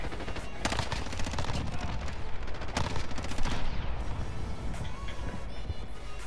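Fast SMG fire in Call of Duty: Modern Warfare rattles in loud, rapid bursts, with short pauses between volleys and game effects around them.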